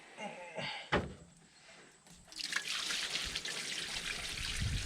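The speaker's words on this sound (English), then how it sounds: "we are gonna flush out the radiator the best we can with just, water" Water pours out of the radiator of an AMC Rebel during a cooling-system flush, carrying rust: a brief trickle and a sharp knock early on, then a steady, fairly loud broadband gush of draining liquid that keeps on to the end.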